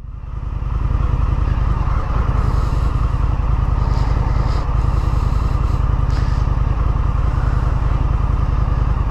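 An Indian FTR1200 motorcycle engine runs close by with a steady, loud rumbling idle and a few light revs, accompanied by faint clatter, with no talking.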